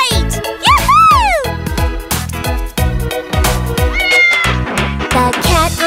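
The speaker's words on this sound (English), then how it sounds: "It's a cat." Cartoonish cat meows in a children's song, several loud, bending mews in quick succession over bouncy music.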